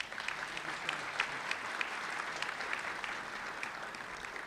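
Audience applause in a hall during a heritage month celebration, a steady, even patter of many hands clapping, moderately distant and without voices on top.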